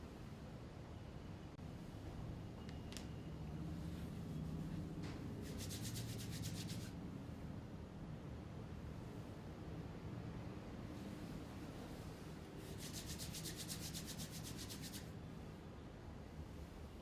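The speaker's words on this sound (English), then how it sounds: "And then we shall rub our palms together" Palms rubbed together during an evening blessing at a spiritual gathering make a steady, soft, hissing friction that stays faint and continuous throughout, with no voices.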